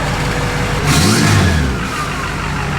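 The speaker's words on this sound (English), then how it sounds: "Burnout!" Duramax diesel swapped into a Chevrolet K20 truck revving hard during a burnout, a loud rising and falling engine roar that swells in the middle then settles to a steady rumble, close by.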